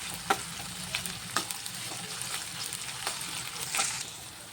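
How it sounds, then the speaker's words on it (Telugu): Onions and ginger paste frying in a pan for an aloo matar masala curry are stirred, with light scraping taps over a constant gentle sizzle and no speech. "కొద్దిగా అల్లం పేస్ట్ వేసుకుందాం. వేసుకొని ఒకసారి కలిపేసుకుందాం."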